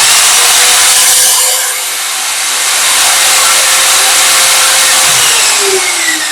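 A Ryu RMS-180 7-inch miter saw runs with no load in a loud, steady, close-up whine and rush, dipping briefly around two seconds before settling back to a constant roar.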